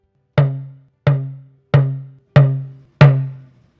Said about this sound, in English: To get the Mi tone, you have to compress the tension chord heavily